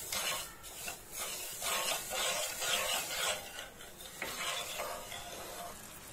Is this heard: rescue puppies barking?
no